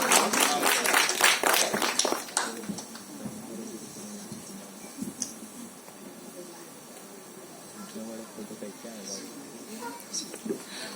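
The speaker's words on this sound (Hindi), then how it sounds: "बादल राजपूत के लिए जोरदार तालियां हो जाए," Audience at a film trailer launch event claps loudly for about two seconds, then the applause thins into scattered claps and a faint hiss under a distant murmur.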